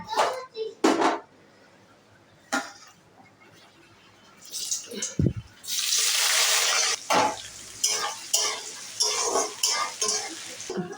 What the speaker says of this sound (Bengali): এবার আমি কুচানো পেঁয়াজগুলো ভেজে নেব